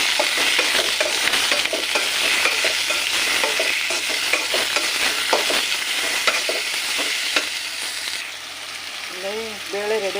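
Garlic, ginger, coconut and tomato fry loudly in a pan with continuous sizzling and repeated scraping strokes as they are stirred, and a voice briefly appears near the end.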